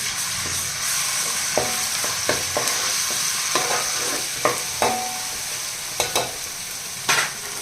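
Ginger garlic paste fries in hot oil with a steady, close sizzle, broken by repeated scrapes and knocks of a spoon stirring it in the pan, with no voices.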